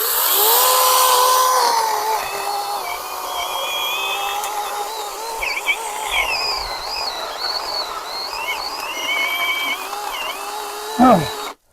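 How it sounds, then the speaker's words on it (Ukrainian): A Procraft PKA42Li 20V cordless chainsaw rated at 4900 rpm cuts through willow wood with a loud, close, continuous whine whose pitch shifts under load. It runs for nearly twelve seconds and ends abruptly. "пробуємо впиратися з дурі сюди і пиляти"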